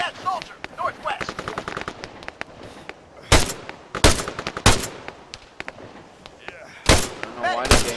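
Gunfire in the video game Arma 3: a rapid run of light shots gives way to several loud, sharp bursts spaced a second or so apart, close and dominant.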